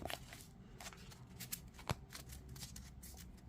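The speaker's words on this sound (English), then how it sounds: "Give it a shuffle" A Sweet Foragers Tarot deck is shuffled overhand, making soft, faint papery riffles and slaps in an irregular rhythm close by, with no speech.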